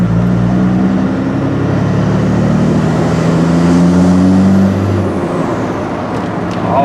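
A 2004 Dodge Ram 5.9 Cummins diesel with a 6-speed and an MBRP 4-inch muffler rumbles loudly and steadily up close, its low drone rising in pitch mid-clip and then easing off as the rev drops.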